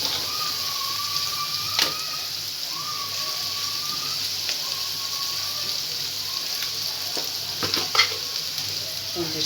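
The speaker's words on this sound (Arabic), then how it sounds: "غادي ندير زيت العود، شويه ديال الثومه" Garlic fries in olive oil in a home kitchen with a soft, steady sizzle. A few sharp clinks of a utensil stirring in the pan break through the sizzle at intervals.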